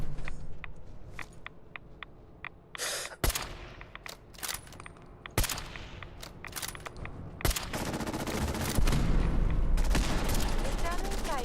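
Repeated gunfire in the video game Fallout 4: sharp shots and short bursts crack out at irregular intervals over a steady din of background game sound, with a heavier, denser volley near the end.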